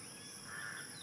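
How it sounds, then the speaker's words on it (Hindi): A village crow gives a faint caw against a continuous hissing backdrop, with the call swelling briefly near the middle and no speech. "कौए की आवाज़"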